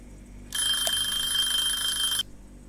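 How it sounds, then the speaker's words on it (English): A kitchen timer alarm in the Cooking Simulator game rings for about two seconds in a bright, continuous electronic jangle, then cuts off abruptly, standing alone against a quiet background. "OMG, the timer."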